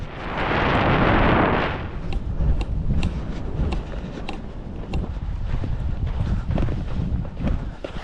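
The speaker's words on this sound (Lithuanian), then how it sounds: "Vėjas tai girdit koks." Strong desert wind at the Giza pyramids buffets the microphone, opening with a loud roaring gust and then settling into a continuous low rumble with intermittent softer flutters.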